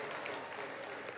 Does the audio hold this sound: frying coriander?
no